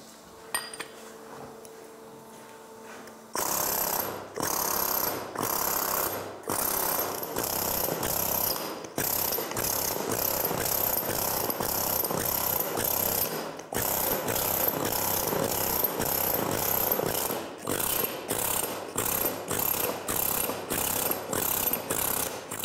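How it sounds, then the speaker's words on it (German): After a quiet start, a pneumatic hammer chatters against stone in rapid bursts, stopping and restarting repeatedly, loud and close. "Der Presslufthammer halbiert die Arbeitszeit"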